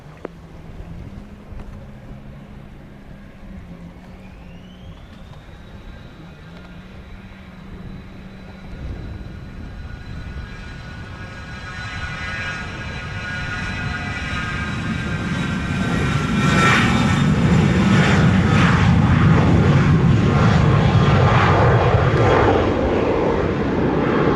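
A fixed-wing airliner taking off from runway 07 at Montego Bay airport in Jamaica: a distant engine whine spools up, then swells into a broad, loud jet roar that holds steady as the aircraft rolls and climbs, with no talk.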